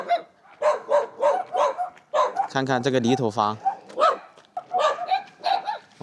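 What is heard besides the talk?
dogs barking continuously at a village house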